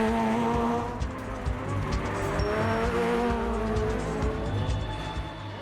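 An Opel Corsa stunt car spins its wheels in a rehearsal for a stunt show, its engine revving hard under a sustained tire squeal that runs continuously and loud from start to finish.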